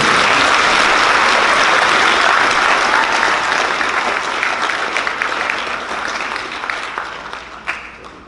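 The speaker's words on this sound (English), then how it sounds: "one more round of applause for all of our scholarship winners" A school academic awards assembly audience gives a long round of applause for scholarship winners, loud and dense at first, then gradually thinning and fading over about eight seconds.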